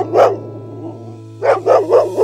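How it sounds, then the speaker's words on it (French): Cartoonish dog barks punctuate a French children's song about a pet dog: one bark, a pause, then four quick barks in a row, loud and upfront over a low steady musical hum. "chien Pitou, c'est mon toutou, c'est mon ami, mon joyeux galopin"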